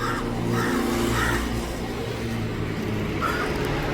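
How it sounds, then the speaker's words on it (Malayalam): A crow caws a few times at a distance against a steady background hum and rumble, and the calls come through faintly and intermittently. "കാക്ക വിളിച്ചു പോവാ"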